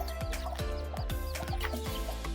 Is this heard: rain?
no